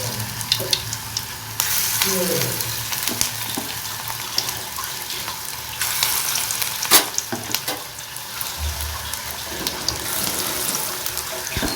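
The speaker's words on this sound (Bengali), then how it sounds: "এবার দ্বিতীয় স্টেপে ভেজে নিচ্ছি।" Shrimp fritters (phool chingri bora) on their second deep fry, a continuous loud bubbling sizzle close by, with occasional clinks and scrapes of a utensil and no talk.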